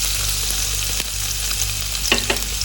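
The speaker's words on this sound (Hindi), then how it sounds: "और इसको हम अच्छे से करेंगे फ्राई।" Chopped onion sizzles steadily in melted butter in a pan, a constant broadband frying hiss with a few soft stirring clicks and scrapes near the end.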